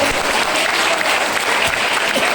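An audience claps steadily at a speech event, a dense, continuous wash of applause that fills the whole clip with no break.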